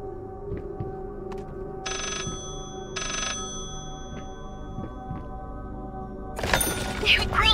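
A telephone rings in the video game Layers of Fear, two distinct bursts of ringing amid game ambience and scattered clicks, followed by a louder crash-like noise near the end.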